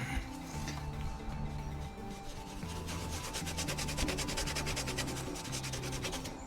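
A cloth rubbing clean the chassis plate on a MK1 Volkswagen Golf, a quick repeated back-and-forth scrubbing rhythm at close range over a faint low background hum, no speech.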